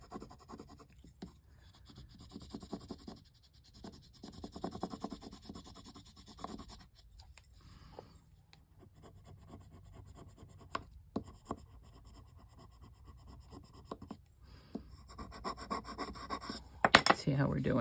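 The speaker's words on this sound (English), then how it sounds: "I'm just going to use my bone folder to rub it down, hopefully transfer it over." A bone folder rubs down a transfer onto a Rolodex card, giving a soft, steady scratching and scraping in quick strokes that pause briefly and then resume, fairly quiet and close, with no talking.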